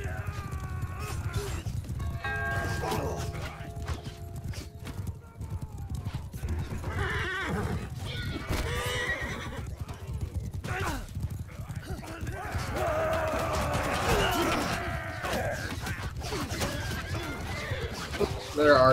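Horses whinny and hooves clatter amid a cavalry and infantry battle between Empire and Khuzait forces in the video game Mount & Blade 2: Bannerlord, with dense combat noise throughout while someone talks over it.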